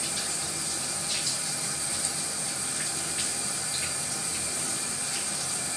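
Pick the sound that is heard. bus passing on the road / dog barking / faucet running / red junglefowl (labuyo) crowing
faucet running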